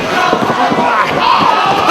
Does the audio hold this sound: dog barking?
no